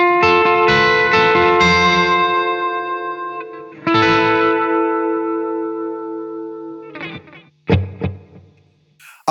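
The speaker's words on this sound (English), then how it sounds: "then I'll add the delay and the DC drive so that you guys can hear the difference" Electric guitar through delay and DC drive overdrive plays a song: chords ring out with echoing repeats and a lush, distorted sustain, a few strums spaced across the phrase, loud and close.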